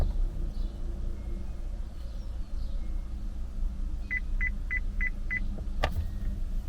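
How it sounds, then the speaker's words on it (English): Five short, evenly spaced electronic beeps sound from the dashboard of a 2004–2012 Chevrolet Colorado pickup during an oil life reset, quick and clear over a steady low hum. "hold it and you'll hear a bunch of beeps"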